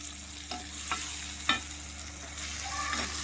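Chopped tomatoes sautéing in a pan for a nethili fish curry, a soft steady sizzle broken by a few sharp scrapes and clinks of a spoon stirring, close and alone.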